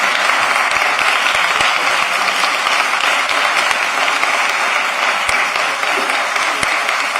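A large audience at a commission meeting applauds steadily, a dense, loud wash of clapping that carries on without a break.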